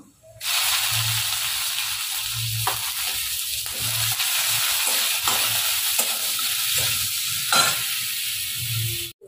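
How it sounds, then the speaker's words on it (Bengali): Chopped onion fries in a pan after garlic, a continuous close sizzle with periodic soft scraping strokes of stirring and a few sharper clinks, no one speaking. "পেঁয়াজটা ভাজা হয়ে গেছে"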